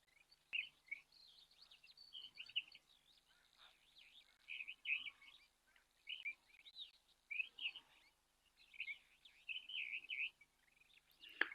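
Superb starlings at a waterhole, giving repeated bright chirping and warbling calls in bursts, fairly faint and at a distance, with brief pauses between phrases and no other prominent sounds.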